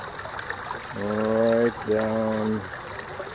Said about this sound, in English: It's just listening to the water makes you cooler.